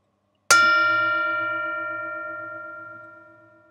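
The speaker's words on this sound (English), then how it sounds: "I'm going to invite the bell to sound one more time." A meditation bell struck once, a clean bright strike that rings on with a long, slowly fading sustain, alone in silence.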